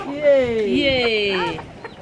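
Chickens cluck close by in a yard, with a quick run of rising and falling calls that is loud and clear at first and then trails off.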